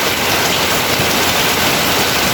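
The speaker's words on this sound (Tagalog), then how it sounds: "tuwing tanghali papahapon ay bumubuhos po ang malakas na ulan" Heavy afternoon rain pours down in Bicol, a dense, loud, unbroken hiss that fills the whole scene with no other sound standing out.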